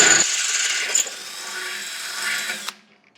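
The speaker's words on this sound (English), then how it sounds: "now I'm going with the 1/4 inch. Now that I have a nice size hole to work with" A drill bores a 1/4 inch hole through the metal wall of a brewing kettle, a steady high grinding whine for a few seconds that rises briefly and then cuts off as the bit breaks through.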